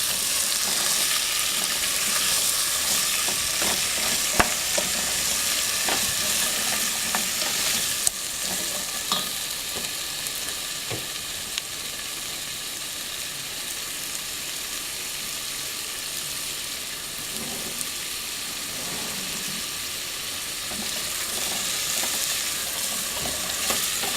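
Potatoes frying steadily in a pan for a school potato curry, with continuous broadband sizzle and occasional scraping stir clicks from a utensil, close and even throughout, no voices.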